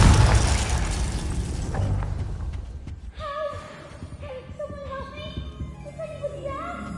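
A Confringo fire spell detonates in the video game Hogwarts Legacy, a loud booming blast up front fading into ringing, chiming spell effects and small pops.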